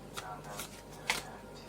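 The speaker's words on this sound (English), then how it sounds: "I'm going to shuffle these back in somehow" A deck of tarot cards is shuffled in a few quick, soft riffling bursts, close and quiet, with a brief sharper flick near the end.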